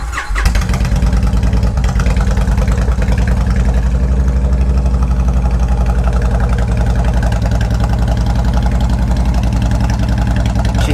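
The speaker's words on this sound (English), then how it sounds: "I'll go stand on the right side here so we can hear that exhaust. Let's see if she fires." A Honda Fury motorcycle fires up, then settles into a loud, steady, throbbing exhaust idle, recorded close from the exhaust side with no talk.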